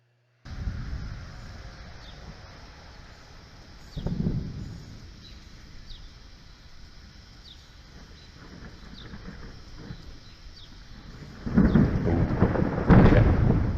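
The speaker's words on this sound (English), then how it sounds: "I want you to listen for the time in between the lightning and the time you hear the thunder" Thunder after lightning strikes during a rainstorm, deep rumbling crashes that roll in at intervals and come loudest near the end, over a steady background of rain.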